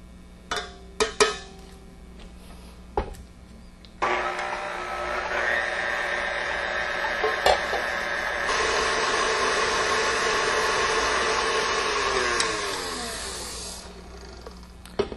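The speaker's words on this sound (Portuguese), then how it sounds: "Vou colocar este creme na batedeira e deixar bater em velocidade média até obter consistência firme." A stand mixer whips cream at medium speed: after a few knocks and clatters, a steady motor whir with a high whine starts, runs loud for about eight seconds, then winds down and stops.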